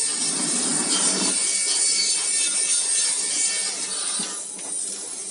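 An electric drill with a 10 mm bit enlarges an 8 mm hole in a metal part. The grinding and scraping runs steady and close for several seconds, with a brief easing near the end and no voices.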